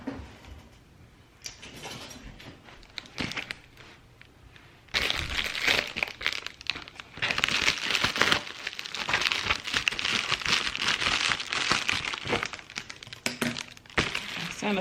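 An Amazon package bag is handled close up. After a quieter start come loud, sustained plastic crinkles and rustles for about ten seconds, with irregular sharp crackles.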